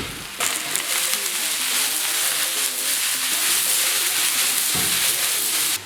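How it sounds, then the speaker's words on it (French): Onions sizzle in a frying pan, a steady, bright crackling hiss that fills the moment with no talking. "je vais quand même faire revenir les oignons dans une poêle"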